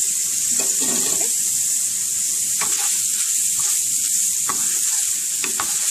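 Onions frying in a pan, a steady close sizzle broken by several scraping stirs and tosses, with no talking.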